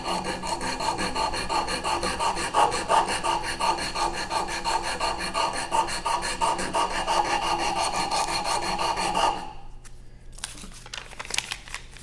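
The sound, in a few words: sanding wood with sandpaper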